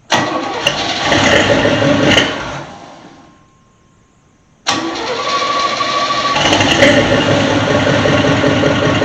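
A 1983 Chevy C30 truck engine cranks and catches, runs loud and steady, cuts out briefly into near silence, then fires again and settles into a strong, even idle close by.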